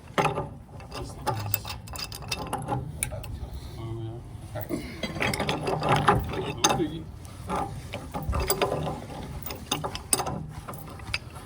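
Metal tools clank and ratchet against the fittings of a pool heater gas regulator with 1-inch nipples as they are disconnected, producing irregular close clicks and scrapes while people talk nearby.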